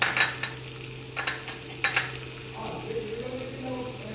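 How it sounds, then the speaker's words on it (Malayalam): Ginger and onion sautéing in a pan give a soft crackling sizzle, with a few scraping stirs early on and a hum underneath, close and moderately quiet with no talk. "കുറച്ച് ഉള്ളി ചേർത്ത് കൊടുക്കുന്നുണ്ട് ഞാൻ സവാളയാണ്"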